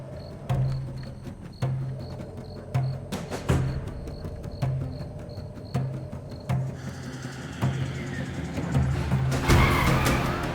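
A car brakes hard and skids to a stop, with tires squealing over a rumbling engine. Repeated mechanical pulses give way to a louder, harsher scrape near the end, fairly close and with no talking.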